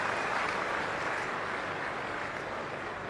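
Cricket crowd at Lord's applauding steadily as Jayawardene reaches his century for Sri Lanka against England in the 2002 Test, a broad, continuous wash of clapping and murmur held at an even level throughout.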